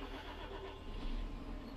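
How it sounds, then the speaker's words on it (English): A small tractor's engine in the Farming Simulator 22 video game runs at a steady, even drone, loud and continuous, with no talk. "This tractor is nice. It's a lovely wee tractor"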